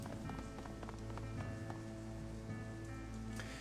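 Steady pelting rain in the Hong Kong setting of the video game Shadowrun: Hong Kong, a continuous dense hiss with a low rumble and faint music-like tones underneath, even and unbroken throughout.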